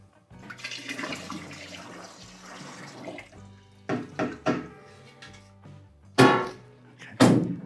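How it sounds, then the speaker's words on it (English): Tap water splashes into a fermenter for pear hard cider with bourbon vanilla, starting as a steady gush then breaking into several short bursts and thunks. "Now I'm just gonna top it off with water"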